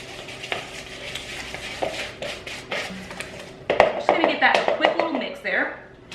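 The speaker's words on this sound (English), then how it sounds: "And then I'm just going to kind of give this a quick little mix." Oat milk is stirred into gluten-free spice cookie dough for Pfeffernüsse, a soft wet scraping and clicking of a utensil in a bowl, becoming louder and more rapid near the end, with a voice talking at moments.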